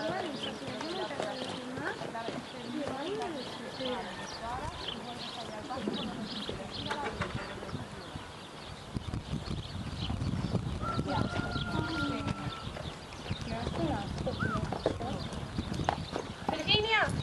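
A mare's hooves clip-clop in a steady rhythm across a riding arena, moderately close, under frequent Spanish-speaking voices and occasional snorting.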